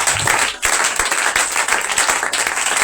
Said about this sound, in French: On acclame Jésus-Christ